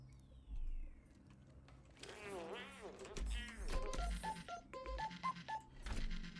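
A phone rings in the video game Scrap Mechanic as a string of short, clear electronic tones in a rising and falling pattern, heard up close over a low game background hum.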